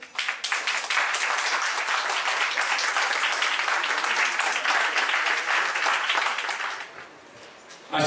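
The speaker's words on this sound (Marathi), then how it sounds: "जोरदार टाळ्या" Loud, dense applause from guests at a traditional engagement ceremony, sustained for several seconds before dropping away briefly and surging back.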